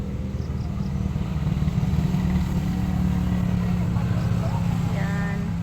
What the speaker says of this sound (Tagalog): Maraming mga sasakyan na dumadaan.